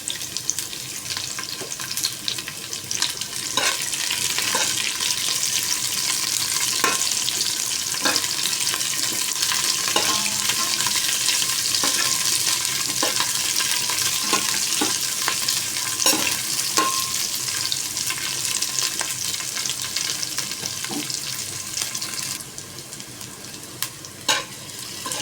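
Onions fry in a pan for squid adobo, giving a steady, close sizzle throughout with occasional stirring scrapes and clinks and no talking.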